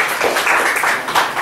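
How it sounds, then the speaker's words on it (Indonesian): A church congregation bursts into a short round of dense, crackling applause, many hands clapping together loudly and evenly for a moment. "Berikan tepuk tangan dulu yang paling banyak."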